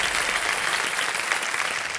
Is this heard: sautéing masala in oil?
no